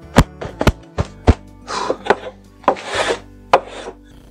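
Hand sanding on a wooden workshop cabinet: short rasping strokes against the wood alternate with sharp knocks and taps, close and fairly loud, with no talk.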